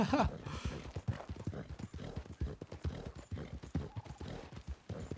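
Horse hooves clip-clop in a quick, steady gallop rhythm in the video game Red Dead Redemption 2, faint and continuous with no talk.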